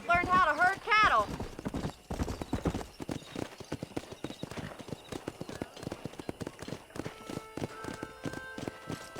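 Horse hooves clip-clop in quick, uneven beats while herding cattle in Red Dead Redemption, close and clear, after a brief whinny and some speech at the start.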